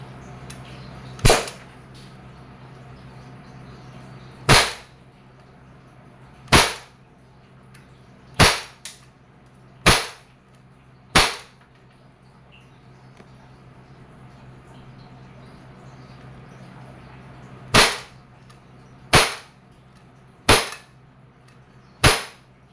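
Umarex Glock 17 Gen 5 airgun firing steel BBs at a target 2 to 3 meters away: nine sharp, loud single shots spaced irregularly a second or more apart, each a crisp pop over quiet background.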